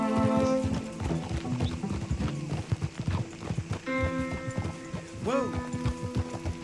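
Horse hooves clip-clop steadily in Red Dead Redemption 2, a close, rhythmic trot layered over the game's music and ambience, with a brief whinny near the end and talk mixed in.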